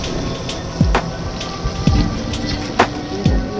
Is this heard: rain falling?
yes